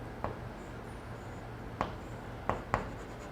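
Marker or chalk scrapes on a classroom board in a few short, soft strokes during a physics lesson, with faint background hum between them.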